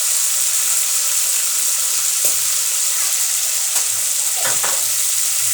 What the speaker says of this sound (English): Then I give it a quick stir like this.